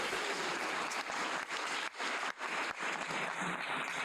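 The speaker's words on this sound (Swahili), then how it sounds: "Simunipigie makofi." An audience at a medical laboratory symposium in Kenya claps for a speaker, producing loud, thick applause that runs continuously for several seconds with a few brief dips.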